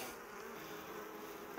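Honeybees buzz steadily at a hive infested with varroa mites, with wingless bees present, a continuous near drone that ends in a brief sharp click.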